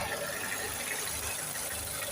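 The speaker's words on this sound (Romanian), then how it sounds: "hai să vedem dacă se aude motorul ăsta cu capota ridicată" A Dacia Logan MCV 1.6 16v 105 hp engine idles close by with the hood open, a low steady hum with a faint mechanical rattle and whir underneath, quiet and even throughout.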